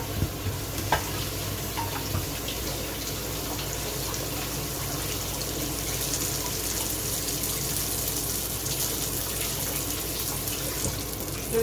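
Butter sizzling steadily in a pan as it browns into beurre noisette, a close, even crackling hiss that runs throughout alongside faint kitchen clatter and a brief knock, with no talking.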